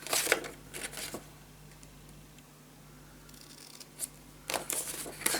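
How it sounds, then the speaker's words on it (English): Scissors snip a small piece off lace paper for a handmade mini album, a few quick close cuts near the start and a cluster near the end, with quiet rustling between. "I'm only going to cut a small piece off"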